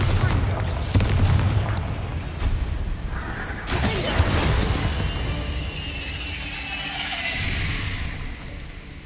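A Bombarda blasting spell explodes in the Hogwarts Legacy video game, a heavy boom with shattering debris that rings and decays over several seconds, while a voice talks faintly under the game sound.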